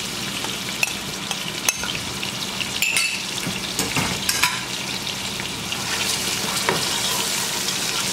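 Mutton frying in a pot with browning onions and garlic: a steady broadband sizzle with scattered crackles and a few sharp stirring clicks throughout, moderately loud and without talk.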